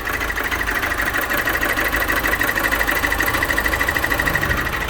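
An Opel Astra K engine idles with a worn timing chain, a loud, close, steady mechanical clatter over a constant engine hum, rattling fast and evenly like a sewing machine throughout.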